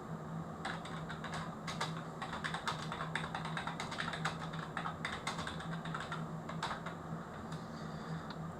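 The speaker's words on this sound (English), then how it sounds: "then you carry on typing" Fingers type on a computer keyboard at a steady, uneven pace. Rapid clicky keystrokes come in short bursts over a low background hum, close and without talk.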